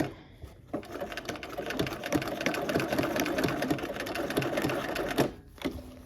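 Sewing machine stitching white snowball pieces on a quilt block, a steady close-up run of rapid needle strokes for several seconds, starting and stopping briefly at each end.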